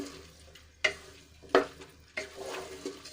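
Basmati rice is stirred in a pressure cooker, with a few distinct scraping strokes and soft grainy rustles and a faint sizzle between them, heard up close.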